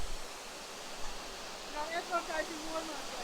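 Rainbow Falls in North Carolina gives a steady, broadband rush of falling water, constant and moderately loud throughout, with faint voices and a few brief squeaky sounds over it.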